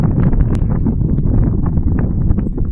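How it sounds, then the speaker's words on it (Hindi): Cold wind buffets the microphone on Cold Edge Road, a high moor road at Ovenden Moor near Halifax, making a steady, loud, low rumbling roar throughout with no talk. "बहुत ठंडी हवा चल रही है"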